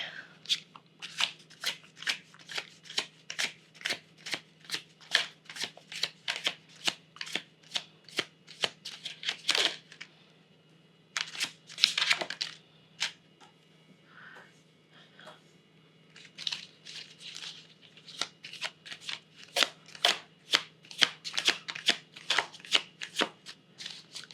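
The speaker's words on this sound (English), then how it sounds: "I'm going to be pulling cards to clarify, to signify the situation or story." Tarot cards are riffled and shuffled repeatedly close by, a rapid run of crisp flutters broken by a brief pause before the shuffling picks up again.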